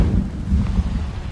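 Incendio fire spell cast in Hogwarts Legacy, a short, loud, low rumbling burst like a fiery blast that swells and then fades over about a second.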